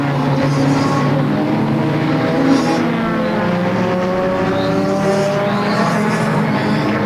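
Race cars roaring around Flamboro Speedway during a 250-lap Halloween enduro, several engines droning together with rising and falling pitch as the pack circles, loud and continuous throughout.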